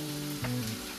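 Chopped garlic, onion, mushrooms and mixed vegetables frying in hot oil over a high flame for fried rice, a close, steady sizzle with a brief louder burst partway through.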